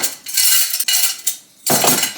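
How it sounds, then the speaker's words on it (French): Hand-washing dishes and cutlery at a sink: clinks and scrapes of silverware and plates, with rushing water in bursts that stop and start, loud and close, no voices. "Je fais ma petite vaisselle et je vous reprends"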